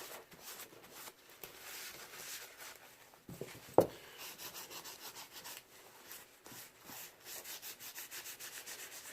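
Soft repeated rubbing on painted Mandalorian costume armor, a quiet steady back-and-forth scuffing with one brief sharp knock partway through.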